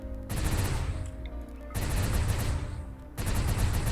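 Distant automatic gunfire in a top-down colony strategy game: three dense rattling bursts broken by brief gaps, steady and moderately loud.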